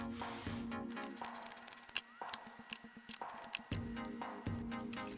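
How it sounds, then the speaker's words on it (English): Scissors snip scrap material into small strips for a farmhouse-style Valentine heart craft, giving several quick, crisp close cuts in bursts with light rustling between them and no talking. "attach those up here with a little bit more of my scrap cut into small strips"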